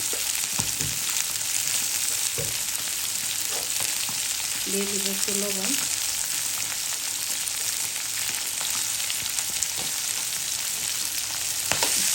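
Oil sizzles steadily in a pan where green chillies have browned and turmeric powder and salt are being added for a spinach fry. The crackle is loud and continuous, with a soft tap near the middle and quiet speech.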